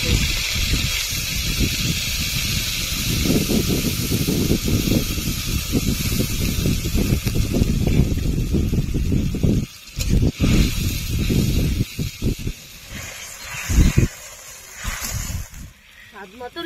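Ground ginger, cumin and dried red chilli paste sizzles loudly in a pan after water is added while cooking a Bengali potato paneer dish, a steady close hiss that sputters and breaks up toward the end.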